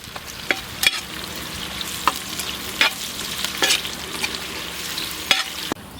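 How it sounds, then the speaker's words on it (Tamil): Onions frying in a pan for beef biryani give a steady close sizzle, broken by occasional sharp clinks and scrapes of a stirring spoon against the pan, with no talking. "வெங்காயம் சூப்பராக ஃப்ரை ஆகியிருக்கு"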